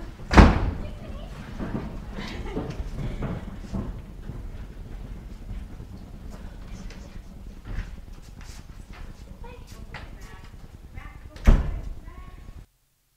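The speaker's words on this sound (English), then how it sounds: "Close the door." A door slams shut in a film scene, with a sharp bang near the start and another near the end over a continuous busy background of movement and voices.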